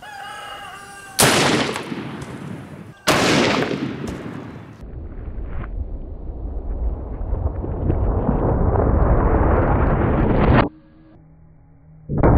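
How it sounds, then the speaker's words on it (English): Two loud, sharp blasts ring out from a 500 Auto Max firing Barnes 275 grain XPB bullets into ballistic gel about 10 yards away, the second followed by a long, steadily rising roar that cuts off abruptly. "So that round hit that gel with enough force to pull this nail out of the wood table."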